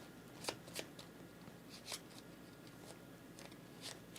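A deck of cards for the board game Black Sonata is shuffled close by, giving quiet riffling bursts and soft snaps at irregular intervals over faint room noise. No one speaks.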